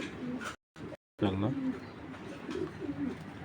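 A pigeon in a Bangladeshi fancy-pigeon setting gives soft, low cooing calls close by, mixed with someone talking over them.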